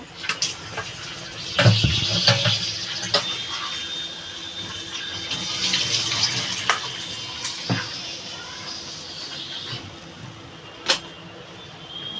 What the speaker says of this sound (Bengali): আমার ঝিঙেটার আলুটা কাটা হয়ে গেছে ধুয়ে নেব